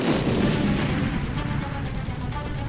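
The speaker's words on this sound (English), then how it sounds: "the first explosion rocked the building" A loud, sustained rumbling blast with broadband roar that stays heavy throughout, like a large explosion rocking a building close by in Halifax.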